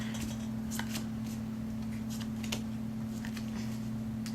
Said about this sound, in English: Oh, I'm shuffling.